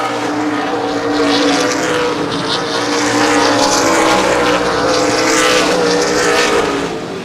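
ARCA/CRA Super Series race cars roaring down the backstretch of an oval speedway, a loud continuous engine drone that swells slightly as the pack passes.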